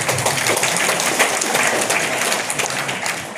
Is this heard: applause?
yes